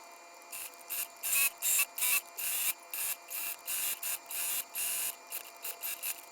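Sewing machine stitching a flannel jacket, a rapid mechanical whirring that comes in many short bursts separated by brief pauses, close and fairly quiet.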